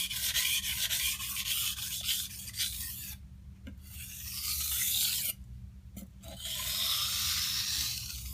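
A blade scrapes back and forth across a sharpening stone in close, rhythmic rasping strokes, with two brief pauses between passes. No voices are heard.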